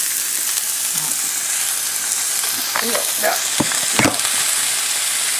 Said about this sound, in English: The pan's really hot. It's like spitting crap in your face.